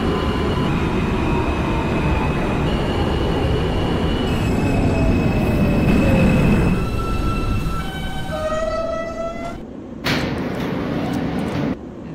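A Queens-bound G subway train on the Crosstown/Culver local, an R160A/B car in the OpenBVE simulator, rumbles steadily with rising and falling wheel and motor whine, then squeals as it slows, with no talk.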